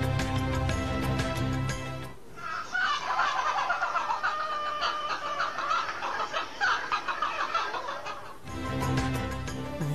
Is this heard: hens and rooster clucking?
yes